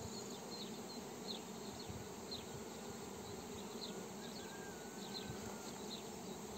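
Dense, steady drone of honeybees swarming around a beehive, a continuous close buzz with individual bees zipping past now and then, no voices.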